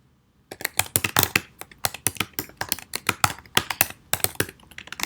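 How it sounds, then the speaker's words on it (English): Rapid typing on a computer keyboard, crisp clicking keystrokes in quick irregular bursts, close and clear with no talking. "I'll put my cursor over here and start typing"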